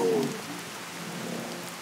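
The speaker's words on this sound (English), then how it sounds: "we're going to turn down the rain and the thunder" Soft, steady video game rain patters over a brief faint tone at the start, quiet and constant with no distinct thunderclap.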